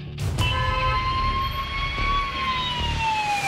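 A wailing ambulance siren sweeps steadily, loud and fairly close, over a low rumble of jammed traffic at the Delhi–Noida border.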